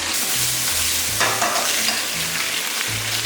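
Lotus root and wood ear stir-fry in bean paste with garlic, ginger and Sichuan peppercorns: a dense, continuous sizzle with a low steady hum and occasional scraping stirs close by.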